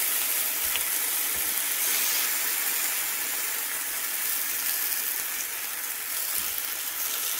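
Turkey rashers fry in oil in a pan, giving a steady, close crackling sizzle that carries on without a break and with no talking.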